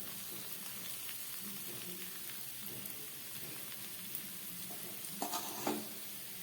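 Butter sizzles on a vegetable dosa in a pan, a faint continuous crackling fry with light stirring or scraping touches and a couple of brief clinks near the end, no talking.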